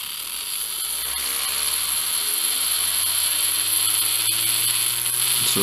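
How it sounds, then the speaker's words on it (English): A small DC motor driven by an ESP32 board through a VNH5019 motor driver whines continuously, its pitch slowly rising and shifting as the speed cycles, with a steady high electrical hum alongside. "it should drive the motor."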